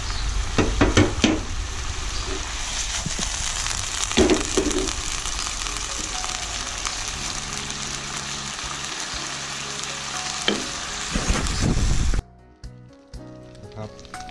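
Bacon frying in a pan with no added oil as it renders its fat, making a continuous, fairly loud sizzling hiss with occasional pops and stirring clatter before cutting off abruptly near the end.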